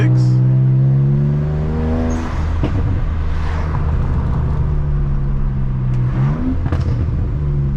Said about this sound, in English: I think this is a V6.